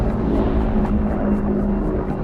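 A V-1 flying bomb drones overhead in World War II, its pulsing engine a loud, steady, rough buzz that fills the whole moment with no voices.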